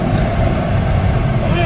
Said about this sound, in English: The fact that this is a practical all-wheel drive family sedan that makes noises like that